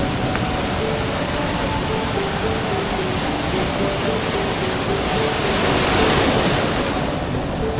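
Ocean surf at Pantai Ngedan beach near Yogyakarta rolls in as a continuous, broad roar of breaking waves, with wind buffeting the microphone throughout.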